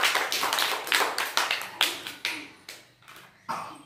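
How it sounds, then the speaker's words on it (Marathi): A class of young children claps in a Marathi primary-school maths lesson, a run of quick, crisp claps in short uneven bursts that thin out and slow down, close by and with no talking. "टाळ्या वाजवा सगळ्यांनी"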